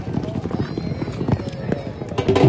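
Horse hooves clip-clop on the ground at a horse dance show during a neza bazi tent-pegging fair in Punjab, a steady patter under loud announcer talk and crowd noise.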